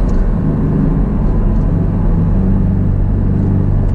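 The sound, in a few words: four-cylinder car engine accelerating in sport mode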